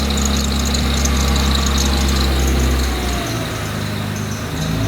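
A Mercedes M111 four-cylinder swapped into an Evo 1 racecar idles just after a cold start, a close, steady, slightly lumpy rumble with a low drone that drops and settles partway through.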